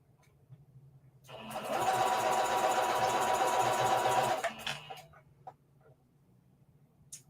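A sewing machine runs in a steady burst for about three seconds, stitching fabric for a reversible bucket hat, close and loud, with small clicks and handling noises before and after.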